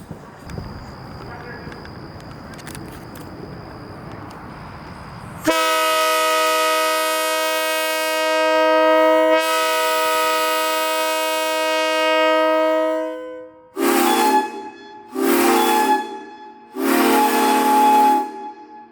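A loud steam whistle blows in a long sustained blast, then three short sharp toots follow, after faint background noise at the start.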